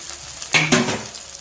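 Okra (bhindi) with coriander sautéing in a pan, a soft background sizzle interrupted by two loud, close scraping stirs in quick succession, then settling back, with no talking.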